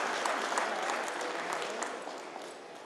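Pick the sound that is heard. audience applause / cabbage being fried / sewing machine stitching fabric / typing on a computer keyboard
audience applause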